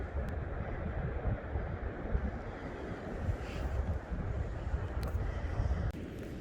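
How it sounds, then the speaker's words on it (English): Wind roars steadily across a snowy winter beach at Plum Island in New England, buffeting the microphone in a loud, unbroken rush with surf mixed in underneath. "Getting a little windy."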